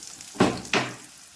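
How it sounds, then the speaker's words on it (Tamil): Onion, garlic, curry leaves and broken dried red chillies frying in oil give a soft hiss with two quick stirring scrapes of the spoon against the pan, close and quiet. "வெங்காயம், கருவேப்பிலை, பூண்டு போட்டாச்சு. வரமிளகாய் 2ஆக கிள்ளி போட்டாச்சு."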